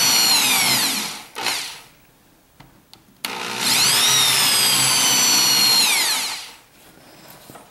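A power drill bores holes with plywood set underneath as backing. It makes loud whirring bursts that ramp up and down in pitch, first a short spin and then a longer sustained run, with no talking.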